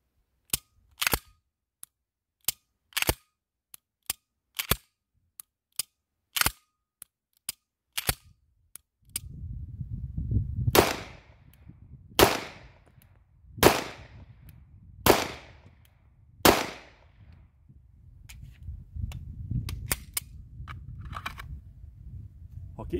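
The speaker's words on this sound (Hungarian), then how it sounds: "és így adom le a lövéseket." Pistol shots on a shooting range during a trigger reset drill: a rapid series of sharp dry clicks comes first, then five loud, echoing gunshots spaced a second or so apart over low background rumble.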